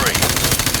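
A short, loud burst of rapid automatic gunfire in Call of Duty: Modern Warfare Remastered during a shipboard assault, close and continuous for under a second.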